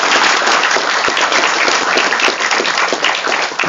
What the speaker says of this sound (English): So can we have a big applause once again?